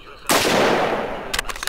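A single sharp, loud sniper rifle shot from S.T.A.L.K.E.R. Clear Sky booms out and decays over about a second, followed by a few quick clicks and ticks.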